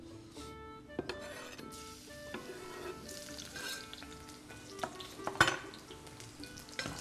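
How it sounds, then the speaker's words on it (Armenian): Large pieces of garlic fry lightly in oil, a soft, quiet sizzle with scattered spoon scrapes and clinks of metal against the pan, one louder clatter late on. "սխտորը ձեթով թեթևակի բովում ենք"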